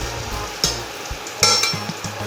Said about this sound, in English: Now we'll put our paratha slowly into the pan like this. So let it roast properly on one side.